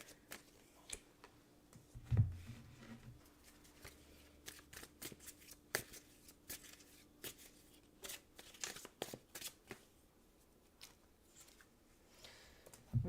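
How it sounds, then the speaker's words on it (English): Tarot cards shuffled by hand during a reading, a run of quiet, crisp riffles and soft flicks spaced irregularly with brief pauses between, close and faint. "Sorry, it's taking me a moment to shuffle my cards."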